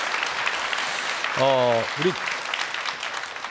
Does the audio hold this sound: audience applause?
yes